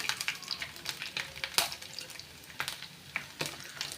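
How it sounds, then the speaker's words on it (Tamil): Cashews and grated coconut fry in a pan, giving a close crackling sizzle broken by sharp scraping stirs at an irregular rhythm. "கேஷ்யூ தேங்காய் கூட நல்லா வறுத்து விட்டுக்கோங்க ரெண்டுமே நல்லா ப்ரௌனாக வர வரைக்கும் வறுத்து விட்டுக்கலாம்"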